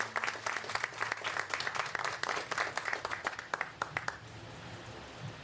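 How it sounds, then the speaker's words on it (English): Crowd at a community mental health center opening applauds, a brisk round of clapping with distinct individual claps that tapers off and fades near the end, leaving room noise. "So let's go ahead and give a round of applause to all of the nonprofits that have been here to support."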